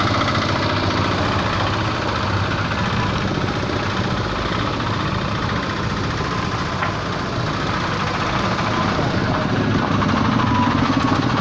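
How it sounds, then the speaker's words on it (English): Road work machinery running beside a road, a loud continuous engine rumble with a rough, knocking vibration that holds steady throughout. "Road work is going."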